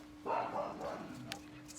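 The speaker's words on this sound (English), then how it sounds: "my dogs are barking." Dogs bark once in a short, muffled burst at a distance in a quiet indoor room, followed by a faint softer yip.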